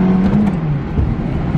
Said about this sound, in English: Wide open third gear shift.